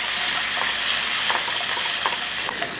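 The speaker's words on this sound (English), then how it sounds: "We're gonna add our green beans to the pan." Green beans sizzle steadily in a pan of butter and oil, a close, even hiss broken by small crackles and pops.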